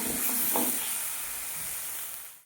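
Green peas dropped into a hot pan for matar paneer set off a loud, steady sizzling hiss up close that holds for about two seconds and then cuts off abruptly.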